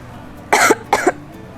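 Two short, dry coughs in quick succession, close and clear, with quiet in between.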